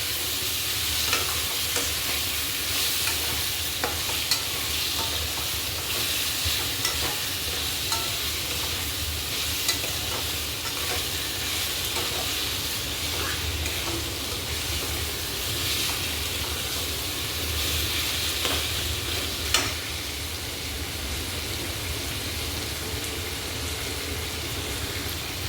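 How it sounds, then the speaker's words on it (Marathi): Masala-coated prawns frying in a pan for kolambi poha, a continuous loud sizzle with occasional scrapes and clatters of stirring, close up and without speech. "आता बघा ही मग अशी मसाला लावलेली कोळंबी टाकून देते"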